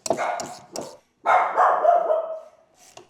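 A dog barks in a motorcycle garage during a Harley-Davidson V-Rod build, a few sharp close barks followed by a longer drawn-out bark that tails off, loud and alone.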